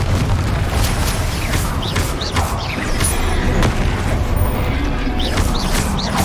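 Spell explosions from Bombarda and Confringo in the wizarding game Hogwarts Legacy: dense, continuous booming blasts and bursts layered with crackling effects, loud and sustained throughout, with faint voices mixed in.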